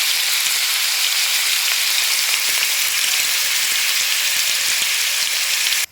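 Vegetables including cabbage fry in a pan for vegetable chowmein, a loud continuous hissing sizzle that runs unbroken and alone until it cuts off at the end.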